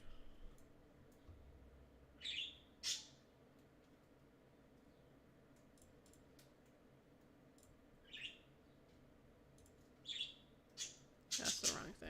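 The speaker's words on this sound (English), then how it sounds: "Bird noise is appreciated." A bird gives short, sharp chirps in scattered pairs over a quiet background hum during a gaming session, with bright clicks and brief bursts spaced across the stretch.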